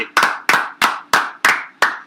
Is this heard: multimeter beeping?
no